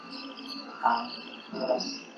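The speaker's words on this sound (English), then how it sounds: "Here is a frog that's vocalizing and it's attracting the female." A male frog in the Western Ghats calls to attract a female, giving two short, soft croaks among a steady chorus of insect-like chirping.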